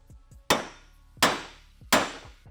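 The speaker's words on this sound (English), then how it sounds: "I've got a socket that fits just inside the hole on the case here, and I should be able to give it a whack and the bearing will fall out" Three sharp metallic whacks from a hammer striking a socket to drive a steel bearing out of an aluminum dirt bike engine case, evenly spaced and loud, each ringing briefly before fading.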